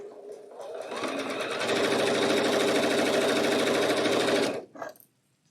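A sewing machine stitches pieced fabric for a quilt block, running in a loud, steady rapid whir for several seconds before stopping abruptly, followed by a brief short run and quiet.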